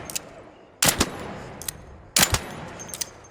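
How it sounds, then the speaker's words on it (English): Gunfire from a gun in the Arc Raiders video game: two sharp, loud bursts of two or three rapid shots each, separated by a quiet gap, with faint clicks between. "Get ready to shoot."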